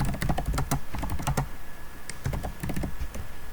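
Loud, rapid typing clatters on a computer keyboard in uneven bursts, keys clicking close by, with a short pause midway before the tapping resumes.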